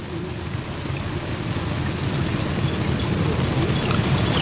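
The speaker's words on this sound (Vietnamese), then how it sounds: "Trời cũng đang mưa này các bạn, tháng mưa bão này đi câu cực khổ quá." Rain falls steadily during a stormy-season fishing trip by a riverbank, a constant dense hiss with a faint low rumble beneath.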